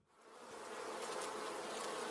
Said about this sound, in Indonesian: Di sana ada sarang lebah madu.